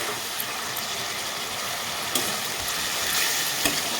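Spiced masala with tomato and sugar sizzles and fries steadily in a pan for a Bengali okra dish, a continuous close crackle with a few soft stirring knocks.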